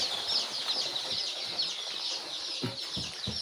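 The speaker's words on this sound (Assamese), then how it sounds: "মই সিহঁতৰ এই পোৱালিখিনি এতিয়া এৰি দিবলৈ আৰম্ভ কৰিছোঁ।" Local chicken chicks at a poultry farm in Assam keep up a dense, continuous chorus of high, thin peeping, with a few soft thumps of movement near the end.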